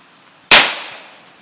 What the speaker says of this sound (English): Nothing cooler than a toilet getting shot.